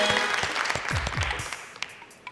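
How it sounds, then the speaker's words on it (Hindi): A talk show studio audience gives a short, dense burst of applause that tapers off quickly. A voice cuts in over the clapping. "तालियां"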